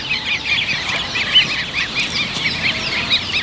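A crowd of goslings, ducklings and chicks at a poultry market peeps and cheeps continuously in high, chirping calls, close by and busy, with no talk.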